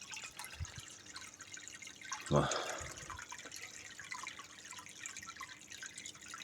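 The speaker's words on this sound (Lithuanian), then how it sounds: "aš čia įpilu švarų vandenį iš viršutinio akvariumo" Clean water from an upper aquarium is poured into a tank in one brief, soft splash amid faint dripping and trickling. Everything stays quiet, and a voice murmurs a short sound.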